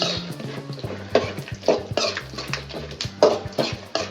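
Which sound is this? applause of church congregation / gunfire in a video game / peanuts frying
peanuts frying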